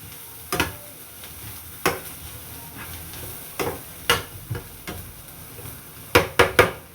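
Egg and coriander powder sautéing in a pan for chicken fried rice, with a soft steady sizzle and intermittent spatula knocks and scrapes, a quick cluster of three near the end.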